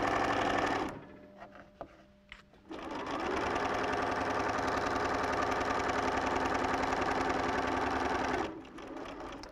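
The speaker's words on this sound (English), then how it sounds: "you can just rest the tip of the awl on it and feed it through" A sewing machine stitches log cabin quilt fabric in a fast, even, close-up whir, stopping briefly near the start and slowing near the end.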